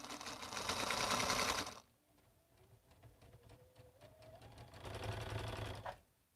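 A sewing machine on a quilt piece gives two loud bursts of fast stitching close by, separated by a quieter stretch of slower ticking clicks.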